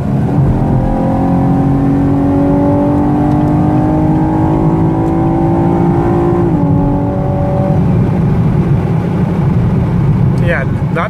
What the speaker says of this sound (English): Okay, listen to the exhaust again. 70 miles an hour pull.